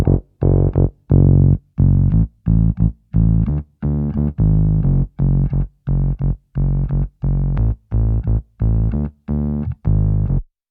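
A bass guitar with its low-mids cut around 300 to 400 Hz thumps through a steady riff of short, staccato notes with clean gaps between them, loud and up front with no voices.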